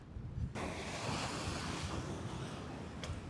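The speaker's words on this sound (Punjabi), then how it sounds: "ਇੱਥੇ ਹਵਾ ਬਹੁਤ ਸੋਹਣੀ ਚੱਲ ਰਹੀ ਹੈ" Wind sweeping across the Kanyakumari seashore roars over the microphone alongside the broad wash of surf, loud and continuous after a brief quieter start, with no voices.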